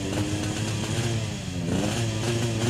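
Drag race motorcycle at a Terengganu drag event revs loudly and continuously, its engine droning with rising pitch and mechanical clatter, close and dominant throughout.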